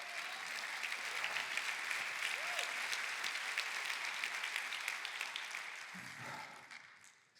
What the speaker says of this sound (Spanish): Da otro aplauso a Cristo.